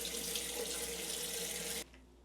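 A bathroom tap runs steadily into a sink while someone rinses cleanser off their face, a close, even broadband rush of water that stops abruptly near the end.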